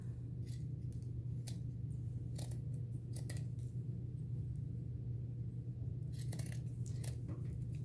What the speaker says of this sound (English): I'm just cutting around the edge here.